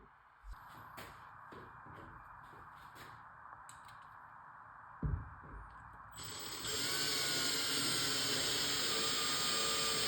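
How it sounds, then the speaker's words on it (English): Power drill driving screws into sheetrock anchors, handling knocks and a thud first, then a loud steady whirring drill run that continues to the end. "Now I'm going to install the screws."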